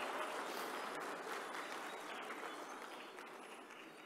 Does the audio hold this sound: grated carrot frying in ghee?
no